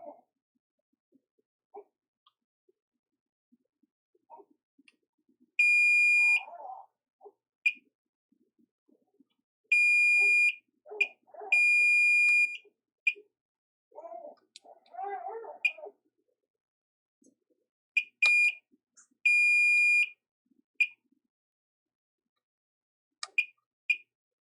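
Continuity beeps from a multimeter in diode mode while probing an iPhone 6 Plus logic board for a shorted capacitor: several sustained high tones of varying length, clear and close, separated by quiet gaps and faint handling sounds.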